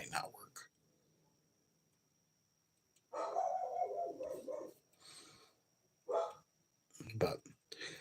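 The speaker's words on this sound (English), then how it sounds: "you can hear my dog going crazy" A dog barks excitedly indoors in a few short, muffled bursts spread across the clip, mixed with a person's voice and quiet stretches between.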